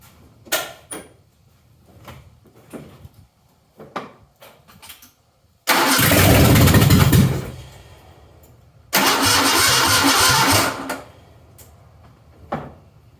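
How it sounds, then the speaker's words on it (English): Barn-find Ford Bronco II engine cranking and catching in two loud bursts of running, each lasting a few seconds before cutting out, with quieter clanks and knocks between attempts. "see if we can't get it to sit and idle for a little bit maybe"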